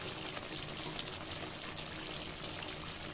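A tablespoon of ghee goes into a pan of Eid-style chicken roast, giving a soft, steady pouring hiss with faint sizzle that stays low and even throughout.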